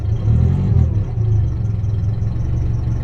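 A Ferrari 308 engine idles cold with a low, steady rumble and a slight rev near the start, close by with no talking.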